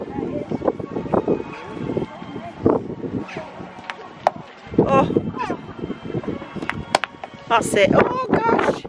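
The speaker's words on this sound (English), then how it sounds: "It's really windy, isn't it?" Strong wind blows outdoors on an adventure golf course at a theme park, roaring and gusting into the microphone. Several people talk and exclaim over it, with clicks and knocks.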